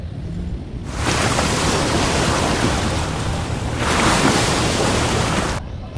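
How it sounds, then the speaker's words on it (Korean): A park fountain beside a walkway in Seoul sends out a steady, loud rush of splashing water, heard nearby and without a break across the whole stretch. "가는 길에 시원한 분수대도 있네요."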